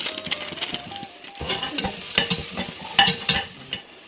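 Ground mint paste with turmeric and garam masala frying in hot oil for egg mint rice, with a steady crackling sizzle broken by repeated scraping stirs of a spoon in the pan.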